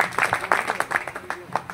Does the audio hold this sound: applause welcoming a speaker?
yes